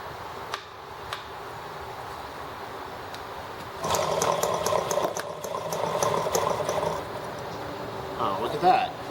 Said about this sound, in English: Didn't think it would start like that because I have not primed it at all.